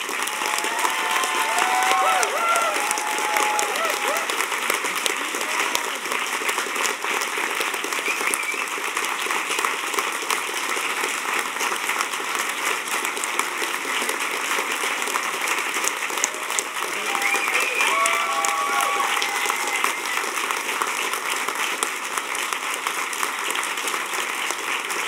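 A large conference audience at a hacker gathering's closing ceremonies breaks into sustained applause and cheering, a steady wash of many hands with a few whoops rising above it, continuous and moderately loud throughout.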